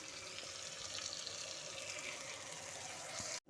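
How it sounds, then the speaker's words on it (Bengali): Rinse water from a spice bowl pours into a pan of mustard-poppy seed fish curry, a soft, steady splashing trickle that stops abruptly at the end. "যে মশলাটা বাটির মধ্যে রেখেছিলাম সেই বাটি ধোয়া জলটা দিয়ে দিচ্ছি।"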